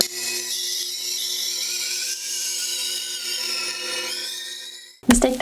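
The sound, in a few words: knife being sharpened on a coarse grit stone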